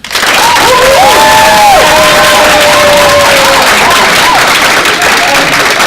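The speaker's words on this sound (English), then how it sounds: "please clap" A debate audience applauds for Professor Craven, dense steady clapping with whoops and cheers rising above it, loud and sustained for the whole stretch.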